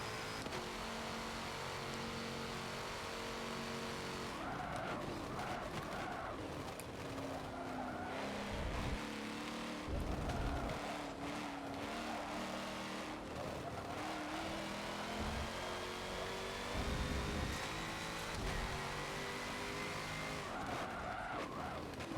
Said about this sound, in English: The engine noise is what chose me.